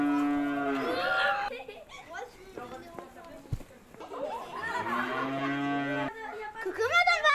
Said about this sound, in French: Coucou madame vache.